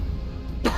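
A single short cough sounds close by, a brief burst at the end of a low, steady background hum.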